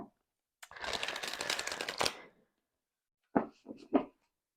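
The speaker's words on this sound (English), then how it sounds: "This is my first time shuffling them." New tarot cards shuffled by hand, a dense riffling burst lasting under two seconds, then a few separate close taps and flicks of the cards, with no talking.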